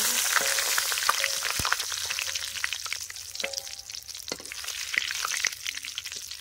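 Red chili and masala spices sizzling and frying in hot oil for a fish curry, a steady close crackle broken by sharp pops and occasional stirring clicks, with no voices.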